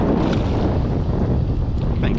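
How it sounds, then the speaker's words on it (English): Strong wind ripping across a fishing boat out crappie fishing in November, a loud, continuous roaring buffet hitting the microphone, with a voice talking faintly underneath. "God, that wind is just ripping."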